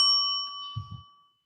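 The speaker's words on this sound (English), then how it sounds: "I'll just ring the bell a few times." A bell rings with a bright, sustained ding that slowly fades, followed by a couple of softer low knocks as it is handled, in a quiet room with no talking.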